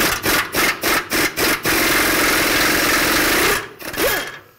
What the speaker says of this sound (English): Now we're going to use a 24mm socket and remove this bolt right here and that bolt right there.